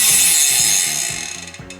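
Close, crisp ratchet clicking repeats in an even rhythm as a tool turns during a swap from an XTR 10x51 to a Garbaruk 10x52 bike cassette, fading slightly toward the end.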